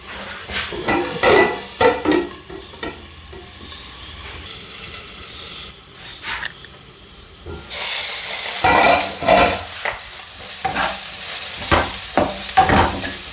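An egg curry base is sautéed and stirred in a pan, with close spoon scrapes and clinks against the metal over a steady sizzle that swells into a louder frying hiss partway through.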